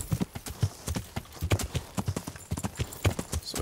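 Horse hooves clip-clop steadily under a rider in Kingdom Come: Deliverance, a quick, even rhythm of close, distinct hoofbeats with no one speaking.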